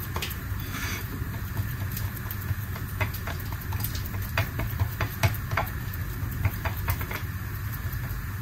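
Harcha, a small semolina flatbread made with water, cooks in a frying pan with a steady low sizzle and scattered faint clicks and taps, and no voices.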